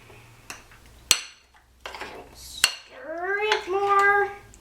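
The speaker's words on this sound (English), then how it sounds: "Stir it more. Make sure everything has been combined thoroughly." A spoon clinks and knocks against a bowl while butter is stirred into a cake filling, with sharp isolated taps spread through the stretch, followed by a voice talking near the end.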